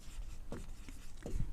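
Chalk or marker scratching quickly across a board as a math class writes out a step, with a few short, close strokes that carry no talk.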